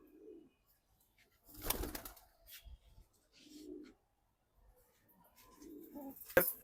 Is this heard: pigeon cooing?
yes